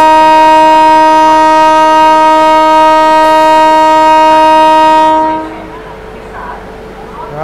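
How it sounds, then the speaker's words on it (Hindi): Goods train passing a junction station, its loud sustained multi-tone horn blaring for several seconds close by, then cutting off to leave rumbling rail noise. "बीच में गुड्स ट्रेन आ गई"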